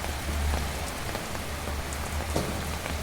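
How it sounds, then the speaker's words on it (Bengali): Heavy rain pouring down steadily, a dense close hiss of drops hitting surfaces with a low rumbling undertone and no voices. "প্রচুর বৃষ্টি প্রচুর বৃষ্টি আজকে সারাদিন এত পরিমাণ বৃষ্টি হচ্ছে"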